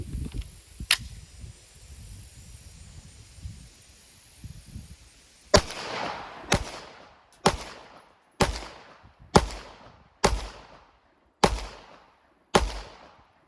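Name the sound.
Sig Sauer P365 FUSE pistol firing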